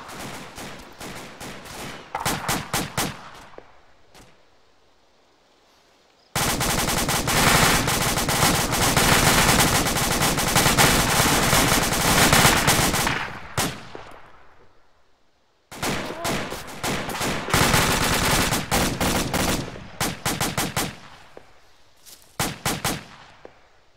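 Rapid bursts of automatic gunfire from a video game, loud and close, coming in clustered volleys with one long sustained stretch of continuous firing and short quiet gaps between.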